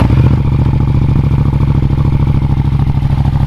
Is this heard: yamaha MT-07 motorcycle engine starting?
yes